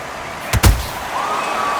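Boxing punch impacts in the video game Undisputed: two sharp, heavy thuds land close together near the middle, loud against a steady crowd-like background bed.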